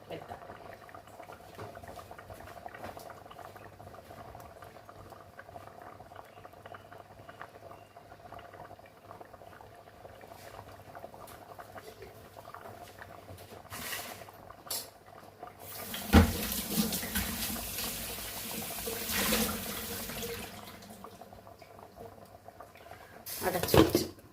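Fish curry with kodampuli simmers in a covered pot, giving a soft, steady bubbling that rises into a louder, fuller rush of boiling near the end, with no talk.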